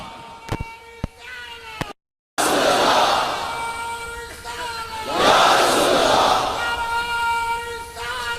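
A large crowd at a religious gathering in Mandahar roars a chant of Ya Rasool Allah in unison, loud and sustained in swelling waves after a brief silent gap, with an earlier voice leading.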